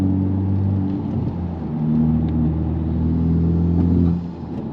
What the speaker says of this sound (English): And when you rev a little bit, it makes itself heard, makes itself known.